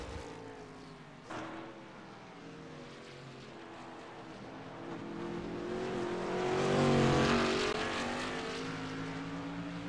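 CMC Sportsman Series race cars lapping a track in Montreal, several engines droning together with harmonic whine that swells louder mid-clip as the pack passes, then eases off while staying steady.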